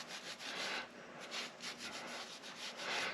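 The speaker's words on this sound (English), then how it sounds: "Just wipe up a little bit of this stuff here" A rag wipes oil residue off a Kawasaki Versys 300X motorcycle engine in quick, close rubbing strokes, a soft rhythmic scuffing with no talk.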